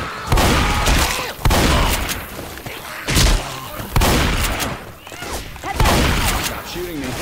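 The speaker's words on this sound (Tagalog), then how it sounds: "Stop shooting me." Bursts of gunfire from Left 4 Dead 2 rattle in repeated loud volleys with short gaps between them, close and dense, as players talk over the shooting.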